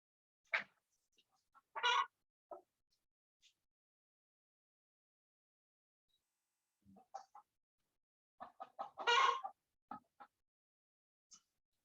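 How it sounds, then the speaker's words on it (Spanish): Chickens on a fish-farming site give scattered clucks and short cackling bursts, fairly faint and distant, with long quiet gaps between the calls. "hoy les dio por estar cacareando"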